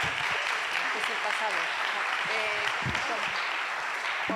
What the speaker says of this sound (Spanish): Un gran aplauso, por supuesto.